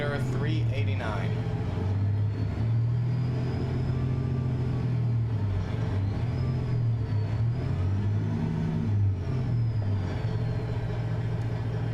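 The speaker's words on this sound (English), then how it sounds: "Engine is the Detroit Diesel 60 series by Zeemods" A Detroit Diesel 60 series engine in a Glider 389 truck in American Truck Simulator rumbles steadily, its low pitch rising and falling with revs, and a faint high whine runs above it throughout.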